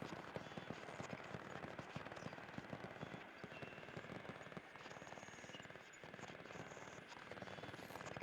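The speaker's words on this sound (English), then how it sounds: "Nope, bombing run." Distant explosions from a bombing run in the WWII shooter game Hell Let Loose, a faint, continuous crackle of rapid blasts and rumble lasting the whole stretch, with no talking.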